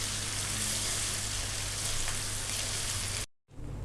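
Garlic and ginger paste frying with onions in a pan for Lahori chana: a steady, close, dense sizzling hiss that runs unbroken, then drops out briefly near the end before resuming.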